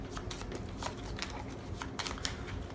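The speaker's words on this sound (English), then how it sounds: "Give your deck a good shuffle." A deck of cards for the deck-building game Battle of the Bards being shuffled by hand, a steady run of soft riffling and slapping flicks repeating for a few seconds, close and clear.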